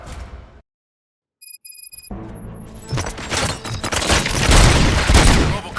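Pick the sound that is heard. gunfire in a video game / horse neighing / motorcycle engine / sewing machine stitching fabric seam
gunfire in a video game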